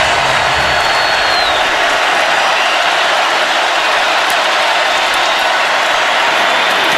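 A packed stadium crowd roars continuously during a Georgia versus Auburn college football game, a loud, unbroken wall of noise with no distinct voices standing out.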